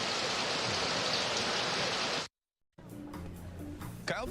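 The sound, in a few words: rain falling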